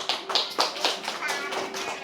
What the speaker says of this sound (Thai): ปรบมือให้ตัวเองหน่อย